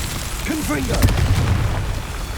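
In Hogwarts Legacy, the Confringo fire spell detonates with a sudden booming blast near the middle, sharp at the onset with a rumbling low tail, preceded by a brief whooshing magical tone.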